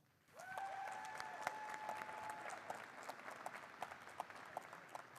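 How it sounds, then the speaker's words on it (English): An audience at a district event's opening ceremony at a university breaks into sustained applause that begins abruptly and stays dense, then thins out slightly toward the end, with a sustained tone ringing briefly at the start. "Again, give yourselves a round of applause."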